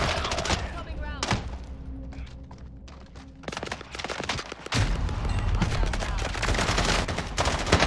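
Gunfire in Call of Duty Warzone Season 5, bursts of rapid automatic shots and heavy booms, loud and near, broken by a brief quieter stretch before dense firing resumes to the end.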